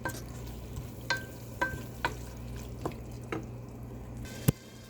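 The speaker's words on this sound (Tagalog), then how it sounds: "ito ginigisa ko siya ng bawang, sibuyas, luya, paminta" Baby squid sautés in a pan with garlic, onion, ginger, pepper and tomato, giving a low sizzle broken by several sharp clicks of a utensil against the pan, the last one loudest. No one talks.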